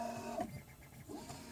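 A 3D printer runs its mesh bed leveling calibration, a quiet, steady mechanical whir with soft stepper motor tones that shift pitch as the probe moves around the bed.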